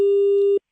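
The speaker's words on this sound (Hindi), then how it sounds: "हेलो, फोन कट जा रहा है" A single steady telephone tone drones for about half a second during a call that drops over a failing network, then cuts off abruptly into silence.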